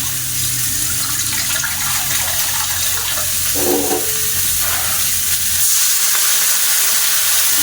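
Water hits a hot frying pan while a home cook prepares a savory dish with soy sauce, giving a steady, loud hiss and sizzle that runs throughout, with no talking.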